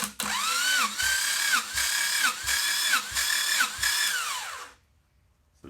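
An engine cranks over on the starter during a compression test on a shop floor, five steady pulsing strokes with a rhythmic drop on each compression before it stops.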